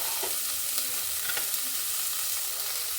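Crushed garlic frying in a pan, a steady faint sizzle with soft scrapes of stirring, no voices over it.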